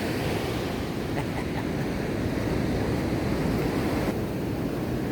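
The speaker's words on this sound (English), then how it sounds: "So we're just there, and the beach is just here." Ocean waves break on a beach in Portugal, a continuous rushing surf roar mixed with gusty wind noise against the microphone.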